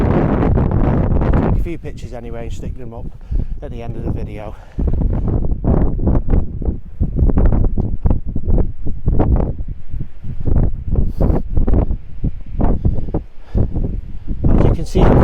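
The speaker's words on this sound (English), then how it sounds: "You can probably tell it's quite windy," Strong, steady wind buffets the microphone on a wet, miserable day while hiking at the Roaches, with someone speaking intermittently over the gusts.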